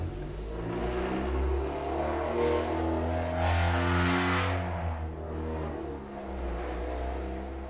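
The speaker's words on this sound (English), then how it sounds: "my neighbor's got loud pipes on her car" A car fitted with loud aftermarket exhaust pipes drives past nearby, its deep rumbling engine note swelling as it nears, peaking mid-pass with a throaty roar, then fading as it moves off, with no talking.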